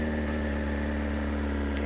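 A 2025 BMW S1000RR motorcycle engine idles with a steady, even hum, close and fairly loud, holding one pitch without revving.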